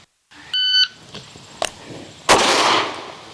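A shot timer gives a sharp electronic beep while a shooter practises a counter-ambush drill, followed by a close, loud gunshot; a sharp crack arrives right after the beep, then a second loud blast with a long, echoing decay.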